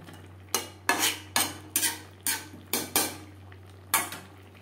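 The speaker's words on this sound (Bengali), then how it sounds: "গ্রেভির সাথে গরম মশলা পাউডার বেশ ভালো করে মিক্সড করে দেব" A spoon or spatula scrapes and knocks against a pan while garam masala is stirred into a broccoli gravy: eight sharp, evenly spaced metallic strokes over a low steady hum, close by with no voices.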